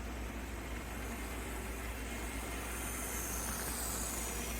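A Bachmann Spectrum HO scale 0-6-0 saddle tank logging locomotive model runs with a light load, giving a steady, even mechanical whir and rail rumble throughout, with no voices.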